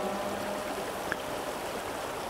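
Steady broadband rush of a mountain brook trout stream flowing through the Pennsylvania wilds, continuous and moderately near, with one brief small splash partway through and no voices.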